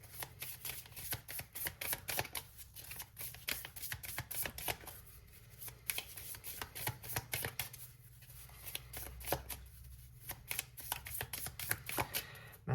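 Tarot cards are shuffled and drawn in a quiet room, giving a quick, crisp run of flicking and riffling strikes in uneven bursts with short pauses, close and fairly soft, with no voices.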